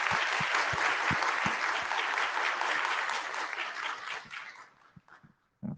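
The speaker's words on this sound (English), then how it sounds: "Can I ask everyone to join me in a round of applause for Dr." An audience applauds after a technical talk at an IETF 114 meeting, dense steady clapping that fills the room, then thins out and fades to a few scattered claps near the end.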